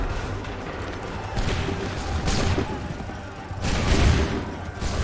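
Gunfire volleys in the Assassin's Creed 3 video game: rough, ragged bursts of musket fire crackle repeatedly at moderate distance over a noisy battle background.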